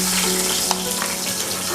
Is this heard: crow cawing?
no